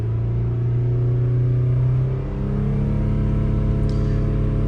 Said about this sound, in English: I'm just going to give it some revs